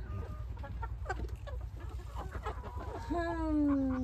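Chickens at a poultry seller's home in Bengal cluck and call repeatedly at close range, with a sharper rising squawk near the end over a busy background.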